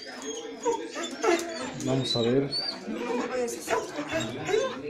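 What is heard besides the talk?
many dogs barking and whimpering before feeding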